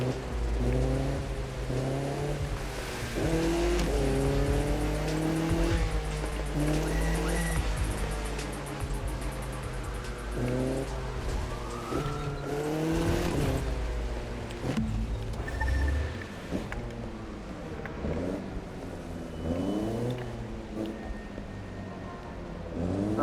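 A car in The Crew 2 drives on a Salt Lake City road trip, its engine revving up and down in repeated rising sweeps with a steady low rumble, close and loud throughout.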